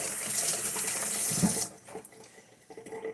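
A tap runs steadily with a broad hiss as a hand is rinsed under it, then cuts off partway through, leaving faint drips and small kitchen clatter, close by and without talking.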